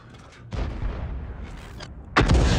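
A tank cannon fires in a tier 8 video game battle, giving two loud booming blasts about a second and a half apart, each with a rumbling tail.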